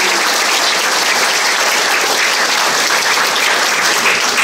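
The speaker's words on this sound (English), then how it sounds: "a big round of applause for Dan" A room full of people at a sports heritage ceremony applauds for a man named Dan, dense, even clapping at full strength with no pauses and no voices breaking through.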